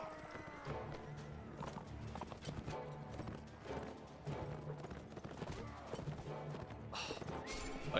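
Hoofbeats of a horse in Mount and Blade Warband, a steady galloping clip-clop under battle noise and music, with a voice talking over it.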